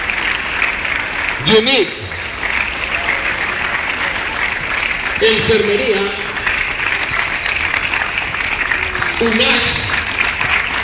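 An audience at an interuniversity sports games ceremony applauds the university teams with continuous clapping throughout, while an announcer's voice calls out team names over the PA above it.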